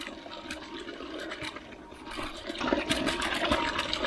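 A solar-powered 750 W DC submersible water pump pumping water as its supply starts running low, a continuous rushing, splashing water sound that grows louder toward the end.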